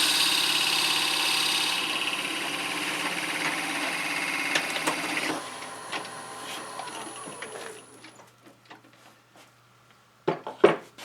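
A drill bores a 5/8-inch and a 1.5-inch hole in a lighthouse ornament, sounding like a steady mechanical whine and hum. The sound breaks through with little resistance, then winds down to near quiet, followed by a couple of sharp clunks at the end.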